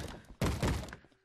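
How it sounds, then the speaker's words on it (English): Banging on a door in Minecraft: a couple of heavy, close thuds in quick succession, loud and alone, then fading. "Someone's banging on the door."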